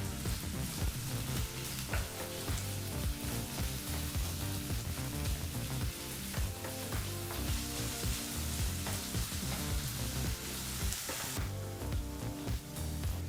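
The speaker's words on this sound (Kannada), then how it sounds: "ಸರಿಸುಮಾರು 2-3 ನಿಮಿಷ ಮೀಡಿಯಂ ಫ್ಲೇಮ್ನಲ್ಲೇ ಈರುಳ್ಳಿನ ಫ್ರೈ ಮಾಡ್ಕೋಬೇಕು" Chopped onion and fennel seeds fry in hot oil over a medium flame, giving a steady, close, dense sizzle with faint stirring scrapes throughout and no talk.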